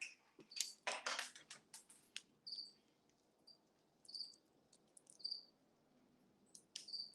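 Crickets chirp in short, high, bright bursts against a quiet background, with scattered faint clicks and rustles between them.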